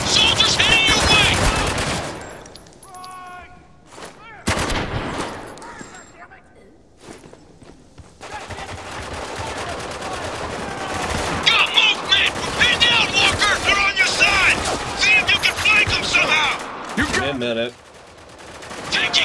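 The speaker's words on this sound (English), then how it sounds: "Taking cover under heavy fire." Heavy gunfire in the video game Spec Ops The Line: loud rapid automatic bursts and sustained volleys with shorter single shots, brief lulls and scuffling footsteps between the barrages.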